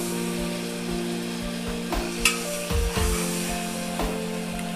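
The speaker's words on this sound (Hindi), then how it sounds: "इसका हमने ये अदरक लहसुन का पेस्ट हमने डाल दिया है इसमें।" Ginger-garlic paste sizzling steadily in a hot oiled pan as the base for chicken curry, a continuous close frying hiss broken by a few scrapes and stirring knocks, with no talk.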